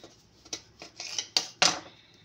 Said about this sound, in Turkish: ikiye böldüğüm hamuru böyle tekrar kesiyorum